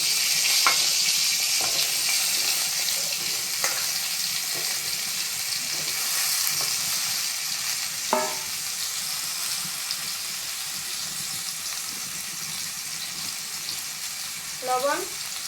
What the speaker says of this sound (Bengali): এবার সজনে ডাঁটা আর আলু ভাজবো।